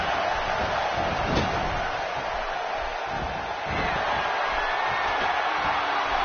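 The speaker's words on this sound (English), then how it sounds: "by the sound of this crowd, I think they're getting what they wanted" Steady roar of an arena crowd cheering during a wrestling match in the WWE 16 video game, a continuous loud wash of noise with a faint thud or slam near the start.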